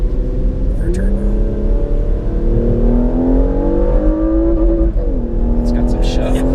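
A 2020 Porsche Macan Turbo accelerates hard onto an interstate, its engine note climbing steadily through the gears from inside the cabin, with voices talking over the loud, continuous drone.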